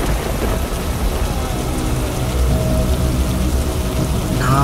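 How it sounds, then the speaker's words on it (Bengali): Steady rain falling on surfaces under a banyan tree, a dense even hiss throughout with a faint distant rumble beneath, no talking. "এটা বৃষ্টির শব্দ হবে হয়তো"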